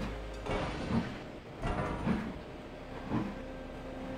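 In Trainz Railroad Simulator, a main-line train turns on a turntable, giving faint, distant rolling rumbles and three soft mechanical clunks spaced about a second apart over a low background hum.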